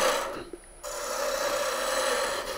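A spindle roughing gouge cuts a wooden dowel spinning on a lathe, giving a steady, close scraping rasp that breaks off briefly, then resumes and carries on evenly.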